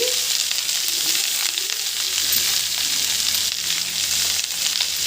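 Ivy gourd (dondakaya) frying in a pan, a steady, dense, close sizzle that runs unbroken and loud throughout, with faint stirring scrapes underneath.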